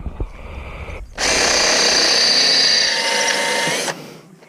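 A power drill drives a hex screw on an aluminum hydrofoil, a loud steady whir lasting under three seconds that starts abruptly and cuts off, with brief quieter mechanical sounds before it.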